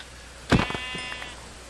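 Sheep bleating in a survival video game, a single short bleat close up over faint background ambience.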